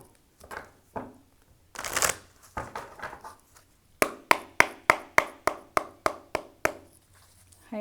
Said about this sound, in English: I'm going to use the energy oracle cards for this.